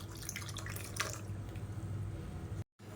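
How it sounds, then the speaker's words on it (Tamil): Rinse water from a mixer jar is poured into freshly ground chutney in a bowl, making a close, steady trickle and splash that runs for about two and a half seconds before cutting off. "இப்போ பாருங்கள், மிக்ஸி அலசிட்டு அந்த தண்ணியை சேர்த்துக்கலாம்."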